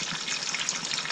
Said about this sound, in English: we'll prepare it for frying